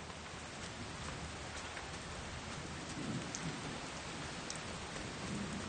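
Steady rain falls across the Sanjiangyuan highlands, a continuous broadband hiss of drops on the ground with faint individual patters, moderately quiet and unbroken by any voice.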